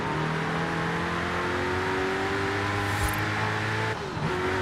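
Car engine accelerating hard in the video game Forza Horizon 5, a stock American car on a racing setup, its steady loud drone rising in pitch through the gears with a brief dip near the end.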